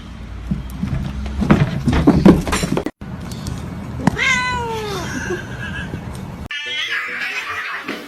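A kitten meows repeatedly in high, drawn-out calls that rise and fall, loud and close, with human voices and laughter around them.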